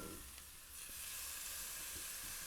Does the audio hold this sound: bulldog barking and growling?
no